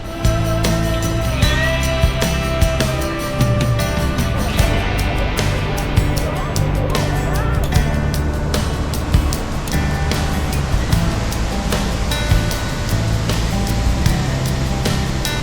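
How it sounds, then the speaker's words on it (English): Sunwapta Falls, a powerful waterfall viewed from a bridge on a short trail in Jasper, roars as a loud, constant broadband rush of falling water, with a person speaking over it. "It's such a powerful waterfall."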